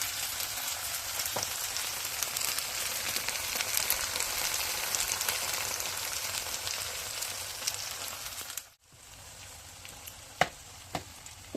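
Chepa shutki, dried fish, being sautéed in a pan, giving a dense, steady sizzle like rain for most of the time. It drops away briefly, then returns quieter with a couple of sharp spoon taps.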